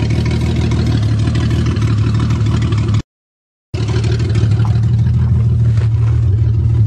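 A 1982 Toyota Cressida engine runs steadily at idle with a constant low rumble, cutting out abruptly for under a second before resuming at the same even, loud note.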